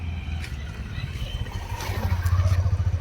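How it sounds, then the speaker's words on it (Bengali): A motorbike approaches on a road, its low pulsing engine growing louder and more rhythmic toward the end, with some faint background voices and clatter around it. "বাইক আসছে।"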